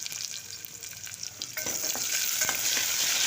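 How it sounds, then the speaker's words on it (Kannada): Onion and crushed garlic fry in hot oil with curry leaves for a sambar, a close hiss that swells louder midway as the pan is stirred, with light scraping taps and no voices. "ಇದಕ್ಕೊಂದು ಸ್ವಲ್ಪ ಈರುಳ್ಳಿ ಮತ್ತು ಬೆಳ್ಳುಳ್ಳಿನೂ ಹಾಕ್ಕೊಂಡಿದ್ದೀನಿ"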